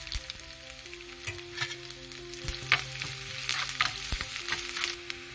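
Chopped garlic sizzles in hot oil in a small pan, a steady crackling hiss with occasional sharp pops and light utensil scrapes. Heard up close and fairly quiet, with no speech.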